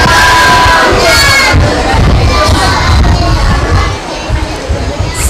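A large congregation at a madrasa religious education gathering loudly recites salawat in unison, a booming collective chant of many voices that swells, then tapers slightly near the end.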